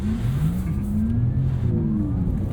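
A 2023 Porsche Taycan Turbo electric car accelerates on the Porsche Experience Center track. Its close, steady electric motor whine rises and dips in pitch as the throttle is modulated, over a constant rush of road and tire noise, with no talking.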